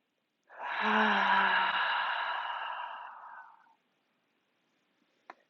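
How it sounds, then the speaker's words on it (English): Forceful yoga fire breath, a single long, strong breathy exhale lasting about three seconds with the hands resting on the low belly, followed by quiet and a faint click near the end. "Take 2 more of those fire breaths."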